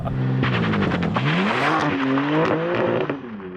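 A rear-wheel-drive car in a racing video game doing a burnout with wheel hop, its engine droning and wavering in pitch under rough tire chatter, loud and continuous before it drops away at the end.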